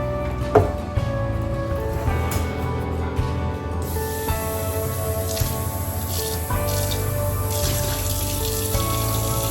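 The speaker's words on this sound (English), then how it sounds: "I'm gonna take care of these dishes real quick." Tap water running steadily into a kitchen sink during dishwashing, a continuous close spray and splash with slight changes in flow and a few clinks.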